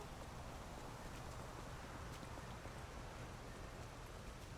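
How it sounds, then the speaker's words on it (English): Steady, dense rain from a video game fills the whole stretch as an even, unbroken hiss of falling drops, with no voices over it. "My game's not very happy with this rain."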